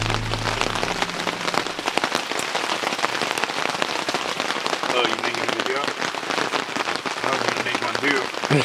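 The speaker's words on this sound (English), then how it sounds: "This is camping in the rain." Heavy rain pours steadily at a campsite, a dense continuous patter of drops drumming on surfaces nearby, loud and unbroken throughout.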